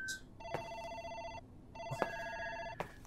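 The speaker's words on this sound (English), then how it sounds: "my phone's ringing now" An electronic telephone rings in the video game Still Ridge, two long trilling rings separated by a short pause, clear and close over a quiet background with faint clicks.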